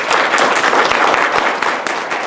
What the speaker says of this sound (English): So he deserves a huge round of applause